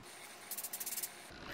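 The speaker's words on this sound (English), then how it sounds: "I really just spray from underneath to get the curls to" Hairspray is sprayed onto the underside of wavy curls in a quick run of about eight short pulsing hisses, close and fairly soft, with near silence before and after.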